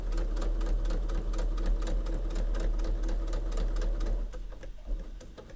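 A sewing machine runs steadily, stitching a quilted sewing machine mat at close range with a fast even rhythm, then slows and stops near the end.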